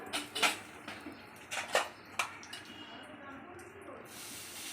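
Whole cumin seeds hit hot oil in a wok, giving a few sharp spitting crackles up close, then settling into a faint, steady hiss.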